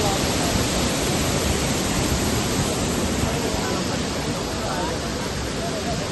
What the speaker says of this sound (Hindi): अब हम लोग आ गए हैं भागसुनाथ वाटरफॉल, और देखो कितना लाउड है ये